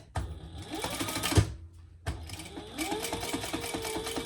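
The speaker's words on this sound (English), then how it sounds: "we're going to top stitch on that top piece with that seam underneath" A sewing machine top-stitches through fabric with a seam underneath, running in two close, fast bursts separated by a brief pause, mechanical whirring and needle clatter close and clear.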